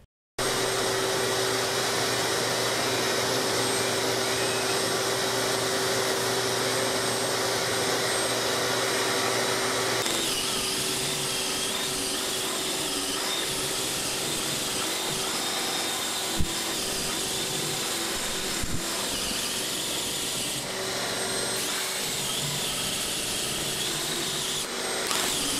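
A ProStormer drywall sander runs continuously with its vacuum dust collection, a loud steady motor whine and airflow roar whose tone shifts partway through, with a couple of brief knocks against the wall.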